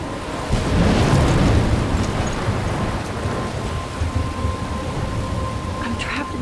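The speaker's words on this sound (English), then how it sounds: "I'm trapped in a storm?" A thunderstorm with steady heavy rain roars in the mobile video game Life is Strange, with rumbling thunder swelling early and then settling into a constant downpour, with no talk.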